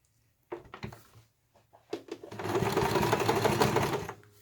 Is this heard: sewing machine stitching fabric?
yes